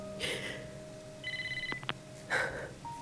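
A phone rings in the video game Wuthering Waves, a short electronic trilling ring with a few rapid pulsing tones between brief soft breaths and game sounds.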